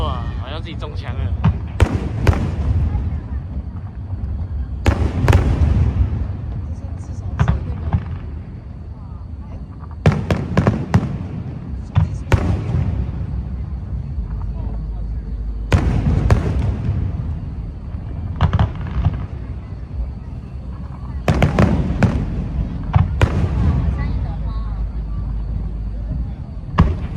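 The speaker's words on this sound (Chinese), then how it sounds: "高空烟火！" Fireworks bursting overhead at an outdoor fireworks show at Beimen in Taipei: repeated loud booming clusters of explosions with crackling tails in irregular volleys, while people nearby talk and exclaim throughout.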